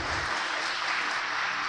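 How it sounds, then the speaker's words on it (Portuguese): A burst of crowd clapping at a church service, dense and steady, fills the short moment without pause. "vamos aplaudir Jesus"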